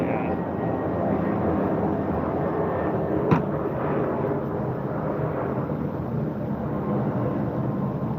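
A fixed-wing plane passes overhead as a broad, steady roar that fills the whole stretch at constant loudness, with a brief sharp knock near the middle.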